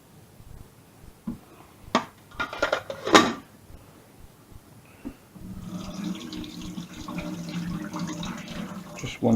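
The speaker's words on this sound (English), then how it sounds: "Just going to put a wee touch of cold water onto these, just to make them a wee bit easier to handle." Cold tap water runs in a kitchen sink, poured over fishcake pieces for potato salad, a steady broadband rush after a few earlier clatters and knocks, close and moderately loud.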